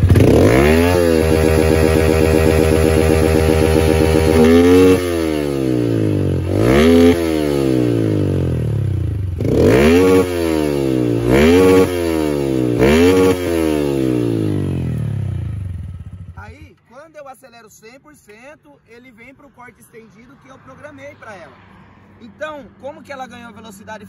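A Honda Titan 160 motorcycle with its original piston revs loudly in repeated bursts, climbing hard and slamming into the rev limiter several times before dropping to a low idle.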